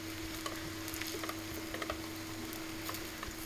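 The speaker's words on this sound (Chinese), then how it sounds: "我们今天煎点南瓜饼哈" Pumpkin cakes fry in a pan with a soft, steady sizzle and faint crackles over a low background hum, quiet and continuous.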